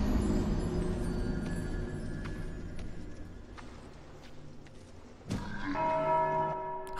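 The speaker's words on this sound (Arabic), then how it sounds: "وراح ضرب الجرس." A large bell is struck once in Dark Souls 2, its bright metallic clang ringing out over a dense, rumbling ambient game backdrop and leaving sustained tonal overtones that hum on afterward.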